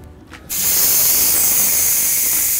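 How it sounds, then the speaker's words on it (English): A pressure cooker full of chili has its steam valve opened, and after a brief quiet start a loud, steady, forceful hiss of escaping steam rushes out and keeps going without pause. "Okay, so now we're gonna let this pressure out this pressure cooker."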